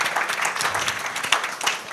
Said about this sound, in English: That requires a hand of applause.